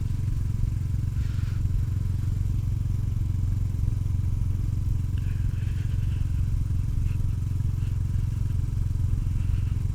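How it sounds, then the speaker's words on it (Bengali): A motorcycle rides through a town at night at moderate speed, with a steady low engine drone and road rumble throughout and faint higher sounds passing now and then. "বাইক বেশি একটা জোর চালাই না, নর্মালি আমি এইরকম স্পিডে চালাই।"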